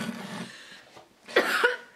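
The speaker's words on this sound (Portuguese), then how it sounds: "Vai ficar tossindo?" A woman coughs close by after face powder gets into her nose during makeup, with a couple of short bursts and rough breaths.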